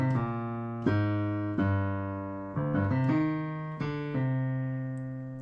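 Piano bass line played by ear, a sequence of low sustained notes struck one after another at a moderate pace, with a few quicker notes in the middle, clear and unaccompanied.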